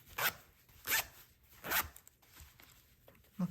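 The stiff, balky zipper on a later-bought knitting needle case is tugged in three short, separate rasping bursts with pauses between them, close-up and quiet, with no voices.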